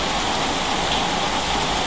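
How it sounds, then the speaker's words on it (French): Heavy monsoon rain pours down steadily on the third day of downpour, a dense, even wash of noise with no letup and no voices. "c'est la mousson. 3e jour de pluie"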